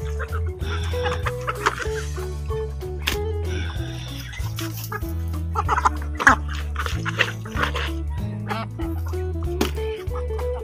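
A flock of Muscovy ducks scramble for food, squawking and quacking over one another in busy, overlapping bursts close by, with a steady clucking chorus of chickens throughout.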